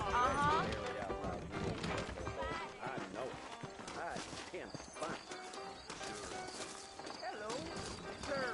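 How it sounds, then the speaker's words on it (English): Saddled horses trot in the Red Dead Redemption video game with a steady clip-clop of hooves and an occasional whinny, running beneath continuous talking throughout. "You ain't gonna find sturdier horses than these in all of New Orleans."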